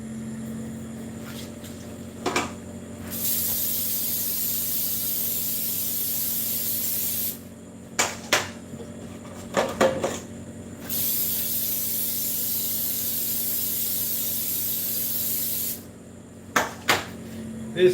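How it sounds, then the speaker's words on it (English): Two long, steady hisses of a spray can coating a baking pan with oil, close and loud, separated by clicks and clatter from handling the can and pan. "I'm going to hit this with the spray a second time."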